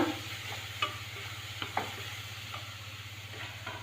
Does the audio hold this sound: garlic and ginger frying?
yes